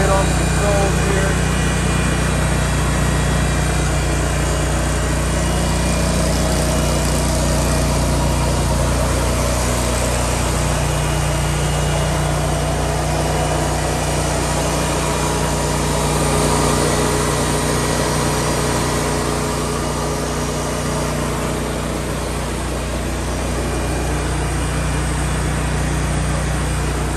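Hobart Champion 10000 welder generator engine running steadily, a loud constant idling drone with a deep hum throughout, a voice speaking over it.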